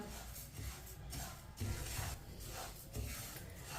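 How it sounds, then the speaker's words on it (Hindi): A spoon scrapes and stirs flaxseed mixture roasting in a pan over medium heat, with rhythmic rasping strokes that repeat about every second, close and fairly quiet. "इसे ऐसे ही चम्मच चलाते हुए भुने।"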